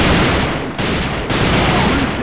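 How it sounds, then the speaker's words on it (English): Loud, dense bursts of automatic gunfire in the online shooter AVA during a clan war match rattle continuously, with two brief dips between sustained volleys. "He's trying to shoot at me."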